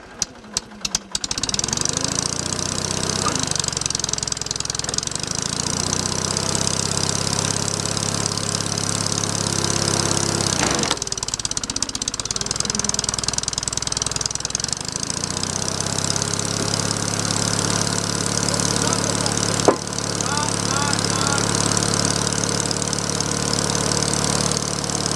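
A small sawmill engine, started on choke, idles steadily with a loud continuous mid-pitched drone and a few sharp knocks at the start, running alone without speech.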